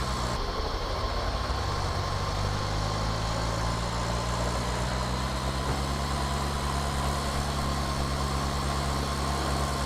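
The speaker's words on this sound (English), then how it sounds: "But this Deutz wouldn't struggle to pull away." Deutz tractor in Farming Simulator 19, a steady loud diesel drone with the engine pitch shifting slightly as it pulls away, no voices over it.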